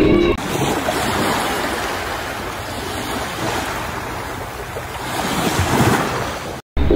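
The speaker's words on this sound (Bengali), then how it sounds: "এবার বলুন, এই সমুদ্রের এই সাউন্ডটা কেমন লাগলো?" Atlantic Ocean waves wash and break steadily in a loud, continuous roar of surf with some wind, filling the whole stretch without pause until a brief dropout near the end.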